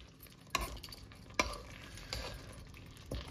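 Half a kilo of chicken coated in green paste being stirred in a pan, with a low sizzle under a few distinct scraping and clinking strokes of a spoon, quiet and close, no speech.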